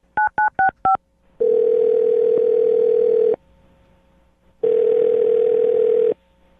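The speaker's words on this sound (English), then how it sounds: "I'm going to dial her phone number right now and get her on the phone" Telephone keypad tones as a number is dialed, five quick beeps followed by two long, steady ringback tones separated by a pause, clear and close.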